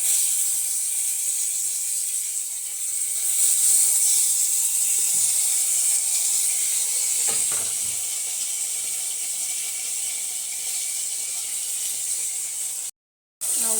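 Potatoes with pepper and curry leaves saute in a pan with a steady, moderate hiss of frying, a couple of faint clinks or stirring scrapes midway, and a brief cut near the end.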